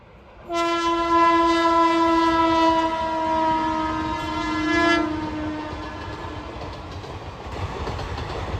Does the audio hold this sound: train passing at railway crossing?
yes